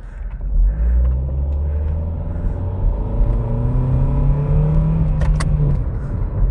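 A modified car pulls away in first gear, its engine rumbling and rising in pitch as it accelerates, heard from inside at close range, with faint clicks near the end and no talking.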